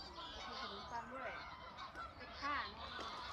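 A flock of ducks honking and quacking together in a steady, overlapping chorus, fairly close and continuous throughout.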